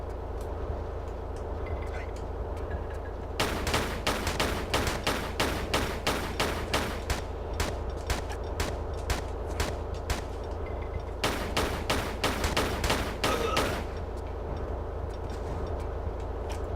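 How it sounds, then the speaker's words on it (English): An enemy in Tomb Raider III's Antarctica level fires at the player in two long bursts of rapid, evenly spaced shots over a constant low rumble. "I know he has got a gun. And he fired that extra shots."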